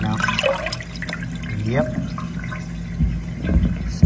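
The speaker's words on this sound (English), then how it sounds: "We got steady water flow." Water runs through a home main drain line on a septic system after a toilet flush, a steady gurgling flow heard close, while someone speaks briefly.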